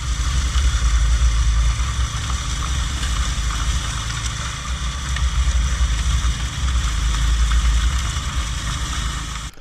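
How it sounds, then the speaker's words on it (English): An Ariens Deluxe 28 snowblower engine runs steadily while clearing 12 to 14 inches of snow on a long driveway, a loud continuous low drone and whir that stays close throughout. "this is the reason why you buy a big snowblower"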